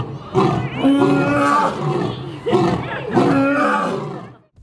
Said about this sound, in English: a lion's roar can be heard up to 5 miles away